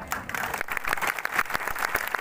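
Applause from a crowd at a tribal community rally, welcoming the guests; steady, dense clapping with some individual sharp claps, moderately loud throughout.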